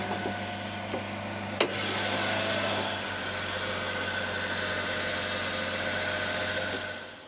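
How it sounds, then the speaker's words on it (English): An old dumpster truck idles with a steady low rumble and a constant broadband drone, a few faint knocks near the start and a small clunk early on, the engine heard close and fairly loud with no talking. "I'm gonna let this idle for a little bit, try to charge that battery for a minute"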